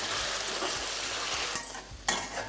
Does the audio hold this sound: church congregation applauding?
no